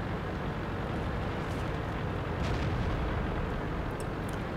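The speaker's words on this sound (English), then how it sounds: "It's a lot of artillery today." Heavy, continuous rumbling of artillery shells exploding in World of Tanks, a dense wall of blasts with no clear gaps and no talking.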